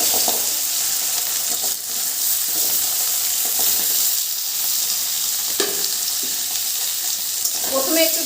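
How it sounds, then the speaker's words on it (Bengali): Jackfruit seeds frying in hot mustard oil make a loud, continuous crackling sizzle up close, with occasional stirring scrapes and light clatters toward the end. "এবার কাঁঠালের আটিগুলো আমি দিয়ে দেবো এর ভিতরে।"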